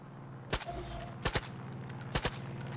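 AKM rifle gunfire in the video game Far Cry 5, three short bursts of two or three shots each, spaced about three quarters of a second apart over a steady low background hum.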